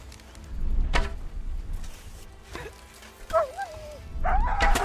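A dog in the medieval role-playing game Kingdom Come: Deliverance 2 barks several times in quick, uneven bursts, with yips and whimpering whines mixed in, fairly close and alone over low background game sound.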